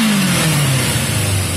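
A Yamaha XJ550 motorcycle with an intermittent fault revs close up, its loud engine tone sliding downward in pitch as the revs drop over under two seconds, with no talking.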